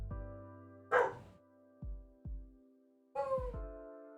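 Dogs barking nearby, a few loud separate barks and yips spaced unevenly with short silences between them, no talking.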